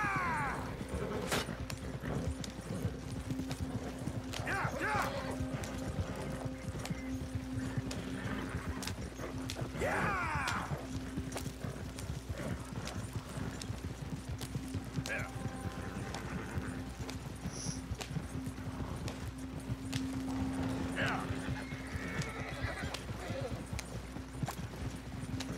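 Horses gallop with steady clip-clop hoofbeats and occasional whinnies in Red Dead Redemption 2, a continuous dense rhythm of hooves with game ambience underneath.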